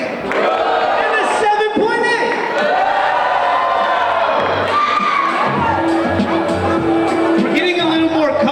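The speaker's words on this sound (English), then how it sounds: "We're getting a little more comfortable booing as the time goes on." A school audience at a ninth-grade poetry slam reacts loudly to the judges' scores, with shouting, whoops and jeering voices rising and falling around a presenter's amplified talk.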